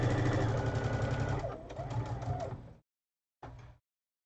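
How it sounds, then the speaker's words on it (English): Sewing machine stitching pinwheel quilt block seams with nested centre points, a steady fast whir for nearly three seconds, a short pause, then a brief second burst. "I'm going to quickly sew this"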